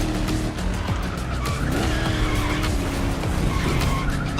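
A Boss muscle car from the 1960s–70s era racing in The Crew Motorfest, its engine droning steadily while tires squeal and skid through a corner, loud and continuous.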